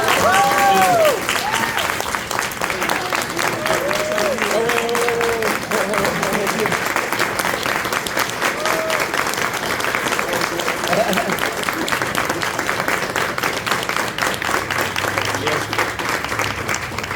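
An audience at a community celebration applauds steadily, a dense continuous wash of clapping that holds for many seconds, with scattered voices and chatter mixed in underneath.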